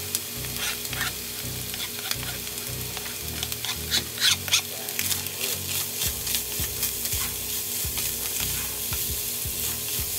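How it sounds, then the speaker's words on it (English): Vegetables sizzle in a pan with seasoned ground turkey for stuffed bell peppers. A constant close frying hiss sits under rhythmic scraping and knocking of a spoon stirring repeatedly, with no voices. "I'm gonna go ahead in and add my vegetables just so they can catch all of those seasonings as well"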